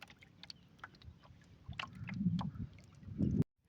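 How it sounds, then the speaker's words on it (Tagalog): Waves slapping against a small boat on the wide water of Agusan Marsh, scattered lapping and knocking that builds into heavier sloshes before stopping abruptly. "Malakas na po yung alon."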